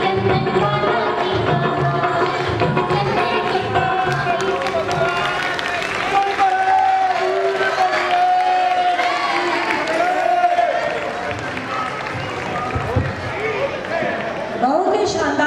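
An audience applauds and cheers after a Chandan Bala dance drama performance, loud and continuous for the whole stretch, with tonal sounds and voices mixed into the clapping.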